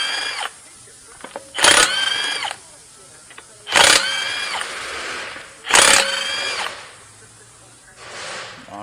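Three loud bursts of a power impact tool with a 17 mm socket spinning off lug nuts on a Volkswagen Tiguan front wheel, each a rising whine separated by quiet pauses, with someone talking in between.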